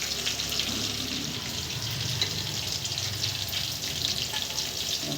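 Brinjals fry in hot oil for a gutti vankaya masala curry, giving a loud, continuous sizzle with fine crackling pops close up throughout.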